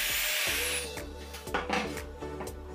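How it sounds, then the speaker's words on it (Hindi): A drill machine spins a bolt wrapped in sandpaper to enlarge holes in wood for a chisel holder, giving a close, rough grinding whir with repeated short bursts and scraping pulses, no talk. "जिसको मैं ड्रिल मशीन में लगाकर इन छेदों को थोड़ा और बड़ा कर दूँगा।"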